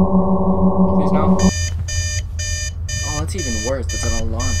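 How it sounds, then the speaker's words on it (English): An alarm clock rings in the horror video game Suite 776, loud repeated electronic beeps in short regular bursts following a sustained tone, with a voice talking over the last part. "That's even worse, it's an alarm clock."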